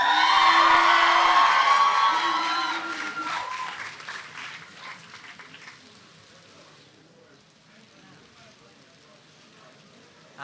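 A commencement audience claps and cheers, loud applause with whoops at first that gradually thins and fades to scattered clapping and quiet murmuring.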